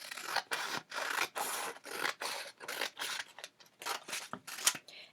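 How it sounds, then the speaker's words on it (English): Scissors snipping through stacked paper strips for a cut paper lantern, a rapid run of repeated crisp rasping cuts with short pauses between strokes, close and fairly quiet with no talking. "I'm going to put them both together and again cut up the middle"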